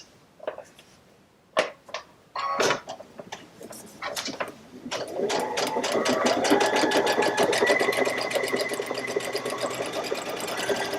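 A sewing machine stitches quilt pieces together in a steady, fast whir of needle strokes that runs loud and continuous after a few sharp clicks and bumps at the start.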